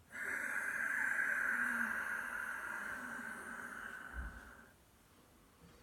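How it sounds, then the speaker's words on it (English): A long Ujjayi exhale through the nose makes a whistling, seashore-like hiss that holds steady for about four seconds and then fades away. "Sign whistling, silky Ujjayi breath, seashore breathing."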